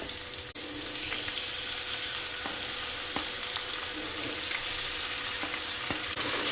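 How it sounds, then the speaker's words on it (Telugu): Paneer with cumin and masala frying in oil in a pan, a steady close sizzle with occasional light clicks of a spoon stirring through it. "పన్నీర్ వేసి అన్నీ కలుపుకొని ఒక్క ఐదు నిమిషాలు అండి చక్కగా ఈ ఆయిల్లో మగ్గాక"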